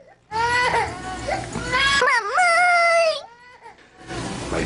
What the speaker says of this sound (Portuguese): Minha filha acordou de repente gritando pra valer, como se alguma coisa tivesse acontecido.